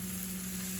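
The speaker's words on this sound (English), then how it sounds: "Any kind of vegetable that you can fry. It's not really frying. They call it sautéing." Spring garlic sautés in a pan, giving a steady, even sizzle and crackle that runs unbroken and close by, with no voices over it.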